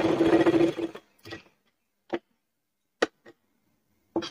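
Nearby, a sewing machine runs in one short burst while sewing the side seams of a fabric shopping bag, followed by a few scattered sharp clicks and taps separated by silence.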